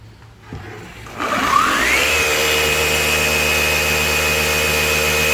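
A polishing machine buffing the paint of a 1985 Mercedes 300TD wagon spins up after a quiet start, rising in pitch and then holding a loud, steady whine with a continuous motor hum.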